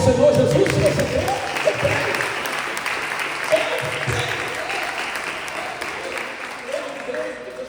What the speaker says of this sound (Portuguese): Você pode aplaudir o Senhor Jesus se você quer?